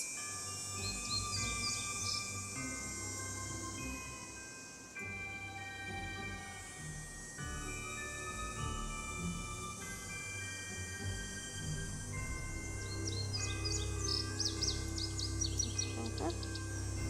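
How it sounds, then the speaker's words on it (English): Synthesized bird calls from a Nancy Drew video game set around Moon Lake, with repeated high chirps and trills that come and go over a continuous ambient game soundtrack. "Some of these birds surely make weird noises."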